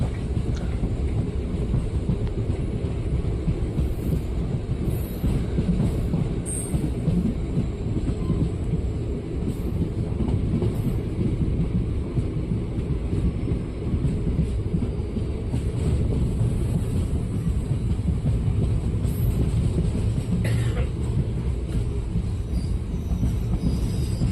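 A train pulling into Ramagiri railway station on the Hospet to Bangalore line, heard from on board as a loud, continuous rumble of rolling wagons with screeching wheel squeal and faint clatter, no talking.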